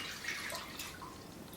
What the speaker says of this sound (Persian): اول 2 تا لیوان آب ورم رو به ظرفمون اضافه میکنیم